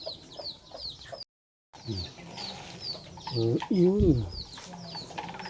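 Ducks, once ducklings, call in a group with repeated nasal quacks and chatter that swell toward the end, while a person speaks briefly in the background.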